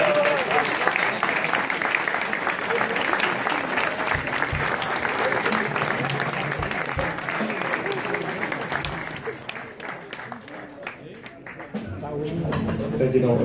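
A concert audience at a show keeps up long, steady applause, a dense wash of many hands clapping that thins slightly toward the end, with a few voices mixed in.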